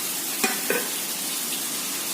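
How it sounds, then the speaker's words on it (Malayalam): A spoon stirs rice flour moistened with boiling water, salt and grated coconut for puttu, giving two quick, soft scraping knocks and then near quiet. "അരിപ്പൊടി തിളച്ച വെള്ളത്തിൽ നനച്ച് ഉപ്പിട്ട് ഇളക്കി ഇതിലേക്ക് തേങ്ങ തള്ളിയിടുന്നു"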